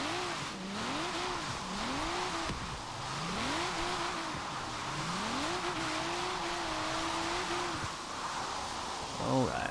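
A car in Forza Horizon 3 drifts repeatedly, its engine revving up and down in rising sweeps with shifts between runs and tires squealing, while people talk over it.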